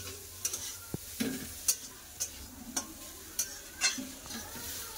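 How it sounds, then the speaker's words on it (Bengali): Steady frying sizzle of boiled radish greens with onion in a pan, a spatula stirring and scraping in irregular clicks and scrapes, close by, no talk. "পেঁয়াজের সাথে শাক খুব ভালো করে ভেজে নেবো,"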